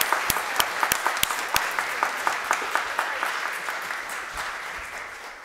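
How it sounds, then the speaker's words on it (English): Church congregation applauding at a Sunday service, a moderate crowd clapping with a few sharp, distinct handclaps standing out early before settling into a steady, slowly fading patter. "And I say let's clap again for everyone."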